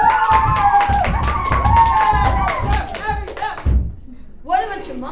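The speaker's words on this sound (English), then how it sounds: "If you're happy and you know it, clap your hands." Children clap their hands in time to a song in a live theatre performance, a run of sharp, regular claps under loud singing voices, fading out near the end.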